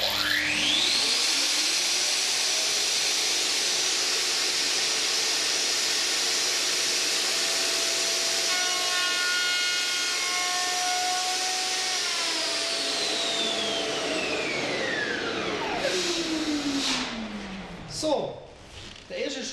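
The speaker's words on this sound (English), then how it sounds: "I mill in with the router and lightly cut in from the side." A Festool router milling a groove for an automatic door seal into a door, a loud steady high whine as it cuts along the edge, winding down near the end with brief clatter.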